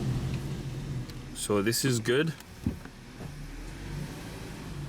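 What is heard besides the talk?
VW Passat car driving back and forth in a shop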